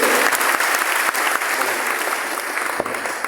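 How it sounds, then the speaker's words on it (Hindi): An audience bursts into dense, loud applause, a continuous wash of many hands clapping at once with no pause, briefly punctuated by sharper individual claps. "सूरज सर के लिए एक खास जबरदस्त ताली होना चाहिए"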